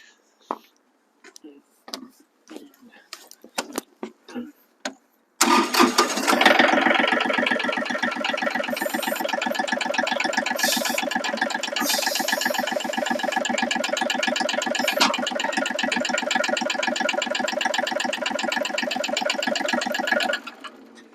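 A Kubota L3302 compact tractor's engine runs steadily while the front loader is raised and lowered, a loud, even mechanical drone after several seconds of quieter clicks and talking at the start.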